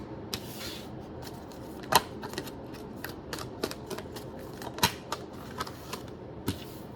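Tarot cards shuffled and handled close by, a quiet run of soft riffles, taps and sharp little card snaps scattered irregularly over a faint background, with no talking.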